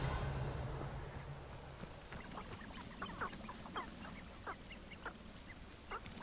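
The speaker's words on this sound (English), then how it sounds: "Geese." Geese in the game Hogwarts Legacy give a series of short, scattered honks and quacks at moderate distance over a low ambient game background, with no talking.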